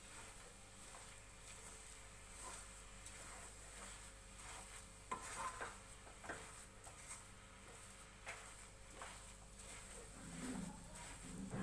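Milk powder stirred into melted sugar in a pan over low gas for coconut laddoos: a continuous scraping, sizzling stir with repeated spoon strokes against the pan, steady and close, with no voices.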